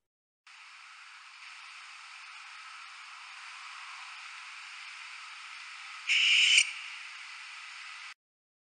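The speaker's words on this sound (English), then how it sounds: "That's its most common call. It's kind of this shriek." A faint, hissy recording of a raptor's harsh shriek, with one louder, rasping burst near the end against steady background static.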